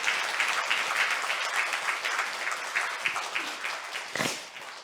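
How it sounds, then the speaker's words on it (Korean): A church congregation at a Sunday worship service applauds together, steady dense clapping from many hands that fills the room for the whole stretch, with a brief louder swell near the end and no voices. "우리 하나님께 크게 박수하겠습니다."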